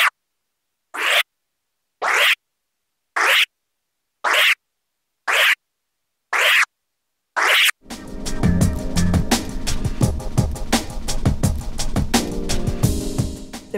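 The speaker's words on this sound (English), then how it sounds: "in this video, I'll teach you how to do the reverse scratch, which sounds like this." DJ doing a reverse scratch on a turntable with the crossfader: seven short, evenly spaced scratch bursts separated by silence, then a continuous stretch of scratching over a beat.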